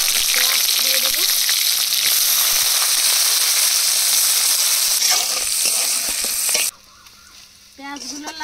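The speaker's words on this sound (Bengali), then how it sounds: "তেলের মধ্যে গোটা জিরা ফোড়ন দিয়ে দেবো আর এতো করা রসুন পেঁয়াজ দিয়ে দেবো" Whole cumin seeds with garlic and onion dropped into hot oil, a loud dense close sizzle that suddenly cuts to near quiet, leaving faint clinks and a soft sizzle at the end.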